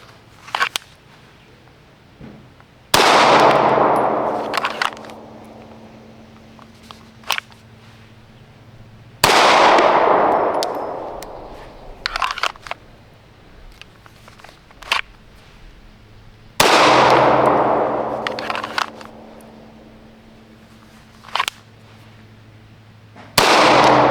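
A Wilson SFX9 pistol fired repeatedly: a handful of loud, close shots spaced a few seconds apart, each ringing out in a long, fading echo, with lighter metallic clicks in between.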